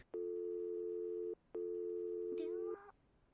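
A telephone line tone after a call is cut off in a horror video game set in an abandoned hotel: two long steady beeps separated by a short gap, followed by a brief burst of other electronic sound.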